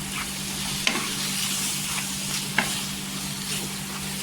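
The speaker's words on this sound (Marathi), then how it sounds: "मसाला आहे ना मिक्स करून घ्यायचा, पूर्णपणे एकजीव करायचा" A coconut and onion masala fries in oil in a pan for an egg curry, a continuous sizzle with a couple of sharp spoon scrapes as it is stirred, close up over a low hum.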